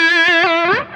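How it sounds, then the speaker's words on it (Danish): Gibson Les Paul Classic electric guitar on its bridge humbucker pickup, giving a thick, mid-heavy distorted tone: a loud, close chord sustained and shifting for about a second before abruptly dropping away, with no talking. "Meget tyk tone på den bagerste pick-up."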